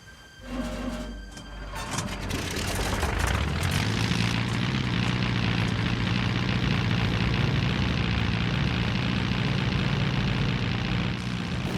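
A propeller aircraft engine on Charles Lindbergh's transatlantic plane coughs, catches and builds to a loud, steady drone, running on close by in damp weather.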